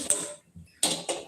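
A gas stove burner is lit in a home kitchen, a few sharp close clicks of the igniter arriving in quick bursts separated by a brief quiet gap.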